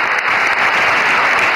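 An audience at a Marathi literary convention in Delhi gives dense, sustained applause for a singer. The clapping is loud and close, with no other sounds.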